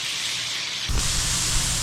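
Yak meat sizzles in a hot pan, a steady bright hiss that thickens with a low crackling rumble partway through.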